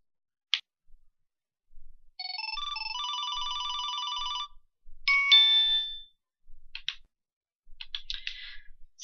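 A phone's text message alert sounds during a schedule-tracking demo, a string of bright, clear electronic tones with a sustained chiming stretch, followed by shorter beeps and clicks, close and moderately loud with no talking.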